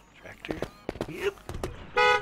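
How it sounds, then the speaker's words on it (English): A vehicle horn in the Shotgun Farmers video game gives one short, bright toot at the end, after a stretch of game sounds and speech-like noise. "To honk and have the cake come out"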